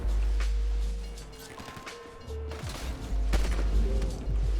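Gunfire aimed at the player in the video game GTA V, several sharp shots and bursts scattered across a low rumbling backdrop.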